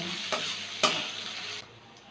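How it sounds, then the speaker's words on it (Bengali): Onions frying in a pan with whole-spice tempering sizzle softly and steadily, broken by two quick stirring scrapes, close and fairly quiet with no voices. "পেঁয়াজটাকে একটু ভেজে নেব"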